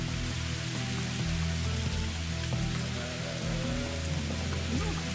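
Heavy rain downpour in a VR video game, a dense, steady roar of falling water with drops pattering on surfaces, continuous and loud throughout with no talk.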